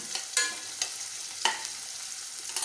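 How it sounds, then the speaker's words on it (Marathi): Chopped onion fries quietly in a pan for Khandeshi khichdi, a soft steady sizzle broken by a few sharp scrapes and taps as it is stirred. "मग घालायचं आहे कांदा। मस्त असं फ्राय करायचं आहे छान"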